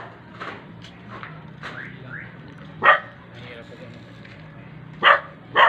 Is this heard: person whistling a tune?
no